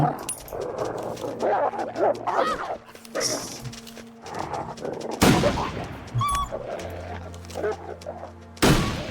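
Gunshots in the survival game The Long Dark, out at Bleak Inlet: a few sharp, loud cracks ring out among dog-like barks and yelps, with someone talking in between the shots.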